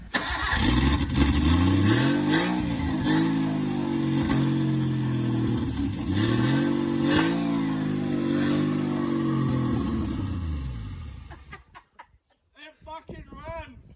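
A car's engine is cranked after a blown fuse is replaced, catches and runs, then is revved repeatedly in rising and falling surges, loud and close, before shutting off into brief quiet with faint sounds.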